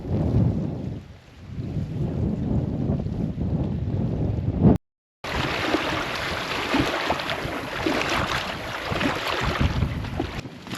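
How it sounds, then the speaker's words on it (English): Strong wind blusters at a wild campsite on the Black Mountain in rough weather, a loud, broad roar that gusts and buffets, briefly cuts out, then returns. "That wind's mad out there."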